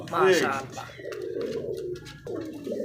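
Pigeons at a pigeon farm in Bangladesh coo in soft, throaty rolling calls close by, heard beneath someone talking.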